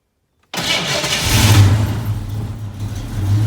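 A 1987 Mustang SSP engine cranks after sudden silence, catches briefly and settles into a loud, close, rough low rumble that runs on unsteadily for a few seconds.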